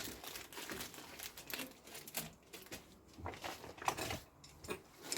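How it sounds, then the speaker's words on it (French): Plastic packaging crinkles and rustles as a Scootfast scooter part is unpacked, a busy close run of crumpling and tearing sounds with small clicks, steady throughout at moderate level. "Je vais vous le déballer."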